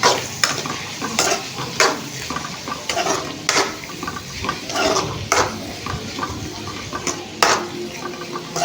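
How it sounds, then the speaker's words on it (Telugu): Egg and onion fry being stirred in a pan after salt and turmeric go in, with steady sizzling under repeated scraping strokes of a spoon against the pan, close and fairly loud, no talking. "పసుపు సాల్ట్ వేసుకొని కలుపుకున్నాము"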